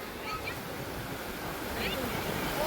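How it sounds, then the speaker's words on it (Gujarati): Sea waves wash onto the shore, a steady rushing surf with wind buffeting the microphone, gradually swelling louder over a few seconds. "તો મિત્રો અહીં દરિયાની લહેરું આવે"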